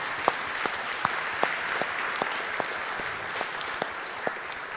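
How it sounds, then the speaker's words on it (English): A conference audience applauds at DConf 2017 after a session of programming lightning talks: dense, steady clapping that fills the room for the whole stretch, with a few sharper claps standing out. "So can we get a huge round of applause for all the lightning speakers?"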